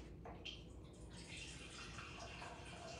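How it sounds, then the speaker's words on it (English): Tap water runs steadily into a container in a kitchen, a continuous close hiss and splash that builds after a brief start and stays level throughout, with no talking. "So I forgot to get water, so I'm gonna get water real quick."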